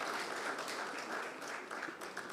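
An audience at a formal industry session applauds to welcome a guest, dense steady clapping filling the short clip with no speech.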